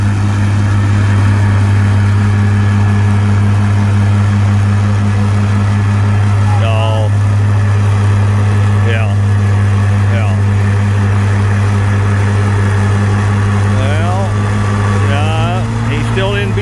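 A Super 77 tractor at a tractor pull runs with a loud, steady low engine drone that holds throughout, while a voice talks faintly over it.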